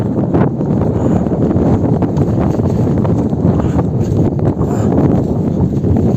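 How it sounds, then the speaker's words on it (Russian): Gusty wind on the descent from Kilimanjaro blasts continuously against the microphone, a loud, rough roar with occasional brief surges. "Очень даже ветрено."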